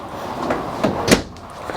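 Curved laminate cabinet doors under the galley of a 2019 Winnebago Navion 24D Class C diesel motorhome open and close, giving several soft knocks and bumps close by, with one sharper thud near the middle.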